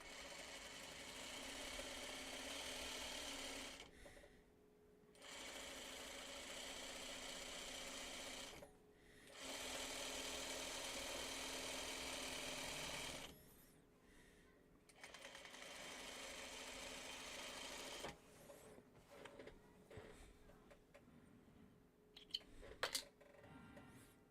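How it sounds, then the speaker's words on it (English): Domestic sewing machine stitching in steady loud bursts of a few seconds each, with short pauses between, used to sew quilt pieces and then run off onto a scrap, followed by quieter handling sounds. "let me just sew off onto a piece of scrap here"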